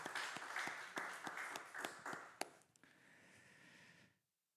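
Church congregation at a Sunday service clapping in unison, a run of sharp rhythmic claps fading into scattered applause before stopping abruptly, fairly close.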